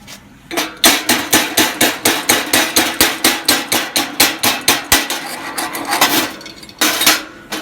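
A chipping hammer chips welding slag off a weld bead in a fast, steady run of sharp metallic strikes, loud and close, briefly pausing midway before continuing more raggedly.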